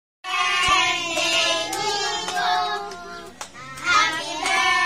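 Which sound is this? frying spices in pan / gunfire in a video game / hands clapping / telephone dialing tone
hands clapping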